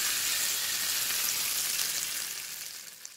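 Hot oil tempering with cumin, turmeric and curry leaves, destined for ginger pickle, sizzles and crackles loudly and steadily, then fades slightly toward the end.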